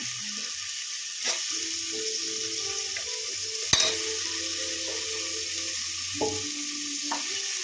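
Washed potatoes dropped into a hot pan of oil while making sambar, setting off a steady sizzle and frying hiss with a few sharp clinks of utensils against the pan, close and continuous, with no talking.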